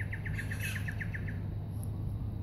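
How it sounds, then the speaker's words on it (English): Swallows over the water's surface give a quick run of about a dozen bright chirps in a rapid, even series, followed by an isolated call, moderately close against a low background rumble. "that's swallows on the surface there"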